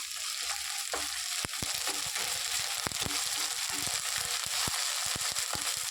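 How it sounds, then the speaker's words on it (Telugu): Ginger paste and curry leaves frying in a pan, a steady close sizzle with scattered sharp pops and stirring clicks throughout, no talking. "అల్లం పేస్ట్ బాగా ఎర్రగా ఫ్రై చేసుకుందాం"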